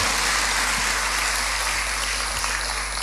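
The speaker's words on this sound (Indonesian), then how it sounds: "Anda yang percaya, tepuk tangannya boleh paling meriah buat Tuhan kita." Church congregation applauding together after a sermon prompt, a dense steady wash of many hands clapping at once, continuous and fairly loud throughout without speech.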